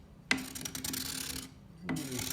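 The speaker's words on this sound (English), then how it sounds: "I'm going to scrape right where I marked" A hickory longbow limb with horn inlays is scraped by hand along marked lines, producing two close, distinct scraping strokes, each a sharp onset followed by a rasping drag, with a short pause between them.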